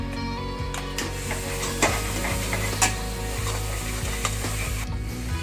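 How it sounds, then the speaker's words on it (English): A masala paste sizzles and fries in a pan with onion and ginger garlic paste while a spoon stirs and scrapes steadily, with occasional louder clinks. "Let us add that paste to onion and ginger garlic paste mixture and get it fried lightly"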